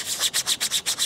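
Hand sanding of a part for a handheld QCW Tesla coil, seven even back-and-forth rasping strokes in a steady rhythm, close and fairly loud with no talk.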